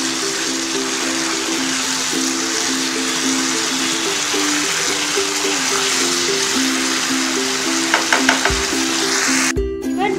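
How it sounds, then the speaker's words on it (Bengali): Soy sauce stirred into jackfruit manchurian sizzling in a pan, a steady loud frying hiss throughout with a faint scraping stir and a few clicks near the end, no voices. "খুব ভালোভাবে নাড়িয়ে নেব আবারও।"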